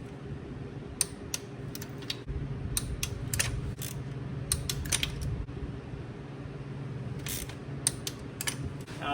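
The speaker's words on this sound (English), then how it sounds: "Now I'm going to torque them all down to the spec, which is 13 foot-pounds for the B20." Ratchet torque wrench tightening bolts to spec on a Honda B20 engine in a high-mileage CR-V, sharp clicking bursts in irregular clusters over a steady low hum, close and fairly quiet.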